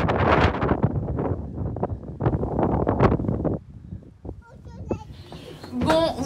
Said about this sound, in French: Je ne sais pas si vous allez m'entendre parce qu'il y a plein de vent.